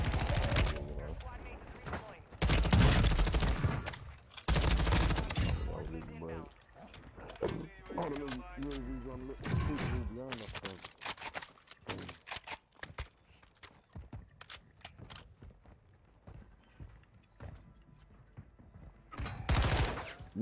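Bursts of gunfire in Call of Duty: Warzone 2.0, including sniper shots, crack out in loud separated blasts amid game noise, with players talking over the action.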